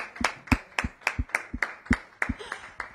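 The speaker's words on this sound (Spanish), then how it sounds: "un aplauso, ¿no? Por favor." A small group claps in slow, even unison, about a dozen crisp hand claps at a steady rhythm, like a studio audience keeping time, moderately loud and close.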